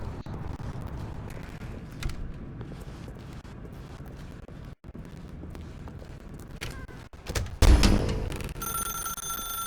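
A telephone rings in the video game The Stanley Parable, its steady ringing sitting within a dense, noisy background that swells near the end.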